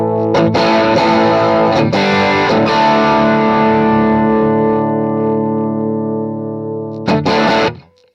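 A distorted electric guitar plays through a Marshall amp: loud ringing chords that sustain and slowly decay, then a few sharp re-struck chords before cutting off.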